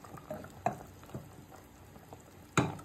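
Spices fried separately are stirred into a pot of mutton rezala, giving soft irregular scrapes and clinks of a spoon against the pan over a faint sizzle, with one louder knock near the end.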